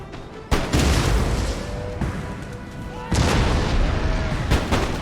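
Artillery in the video game Empire: Total War fires two heavy, booming cannon blasts about two and a half seconds apart. Each blast leaves a long rumbling roar and smaller pops behind it, without talk.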